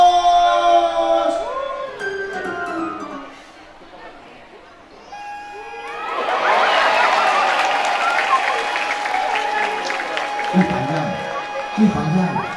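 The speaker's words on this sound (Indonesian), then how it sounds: "tepuk tangan dong penonton" Partway through, a school audience of students breaks into steady applause and cheering that continues to the end, following an earlier sustained tone and some voices.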